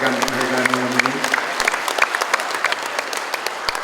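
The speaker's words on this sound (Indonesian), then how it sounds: "Saya minta tolong semuanya tepuk tangan untuk yang akan mendapatkan penghargaan malam ini." Audience at an award ceremony applauding, a steady close wash of many hands clapping that carries on throughout, with a speaker's voice heard early on beneath it.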